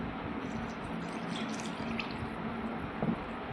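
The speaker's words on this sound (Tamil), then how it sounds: "இப்போ வந்து பால் 1 கப்பு விட்டுக்கலாம்." A cup of milk pours into rava cake batter in a steady, close liquid stream lasting a few seconds, with a small splash near the end.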